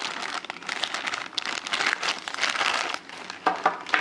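Original sealed plastic parts bags from a vintage toy crinkle and rustle steadily as they are handled up close, a continuous crackly crumpling with a few louder crunches near the end.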